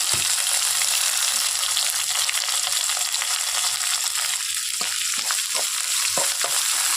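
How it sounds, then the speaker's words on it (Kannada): Dry chili, garlic, curry leaves, onion and coriander fry in hot oil with a loud, steady sizzle throughout, joined near the end by a few spoon scrapes and stirring knocks. "ಎಲ್ಲನೂ ನೀಟಾಗಿ ಫ್ರೈ ಮಾಡ್ಕೋಬೇಕು"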